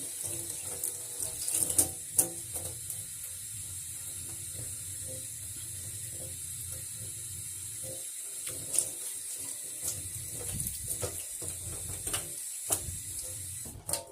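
Egusi seeds are rinsed and washed in water at a sink, with tap water running steadily under intermittent splashes, knocks and handling clatter close by, and no talk.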